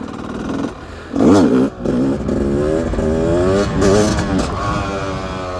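A motorcycle revs and accelerates hard during wheelie practice on a road. The engine note rises and falls through several surging pulls, loud and close, with a brief dip between bursts.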